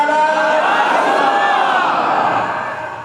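A large gathering at a religious talk honouring Hazrat Siddiq-e-Akbar shouts the slogan Nara-e-Risalat in unison, a loud sustained roar of many voices that fades toward the end.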